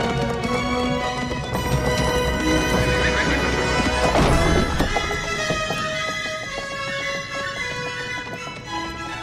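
Horses in a scene from the 1989 animated film The Little Mermaid, with hoofbeat-like clopping and a sharp crashing hit midway, layered over a dense, busy soundtrack.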